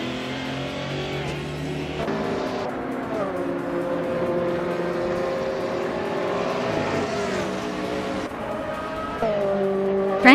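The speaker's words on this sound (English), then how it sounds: "Cherofakitten is driving a 2017 Oreca 7 Gibson" A 2017 Oreca 7 Gibson prototype race car roars in a racing video game, its engine note climbing and dropping through gear shifts, loud and continuous with tire noise underneath.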